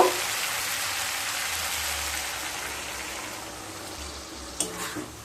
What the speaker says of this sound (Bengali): এরপর মশলা ধোয়া জলটা দিয়ে দেব